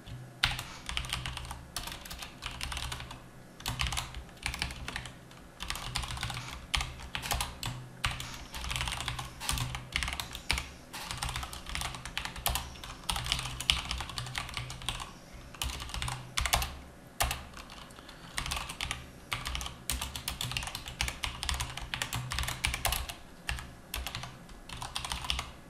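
Steady, continuous typing of code on a computer keyboard, close and clear, with rapid key clatter running throughout with only brief gaps.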